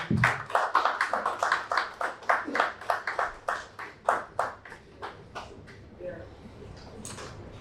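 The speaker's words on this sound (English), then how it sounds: "A round of applause, please" A modest audience at a conference on AI adoption in Nigeria gives a short round of steady, fairly close clapping that slows and thins to a few scattered claps before stopping.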